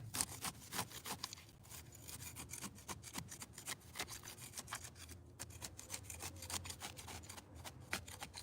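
Garden soil being loosened for a lawn repair, a faint, close scraping and rasping of a tool working through dirt in irregular strokes, with no talking.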